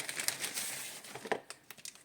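Soft crinkling and rustling of a thin plastic cosmetics packet, with small irregular crackles as the wrapper is handled and pulled open nearby.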